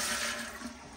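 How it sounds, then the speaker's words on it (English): A Sloan Flushmate pressure-assist toilet flushes with its water supply shut off, draining the remaining water in a steady, close rushing gush. "go ahead and flush it to drain the remaining water"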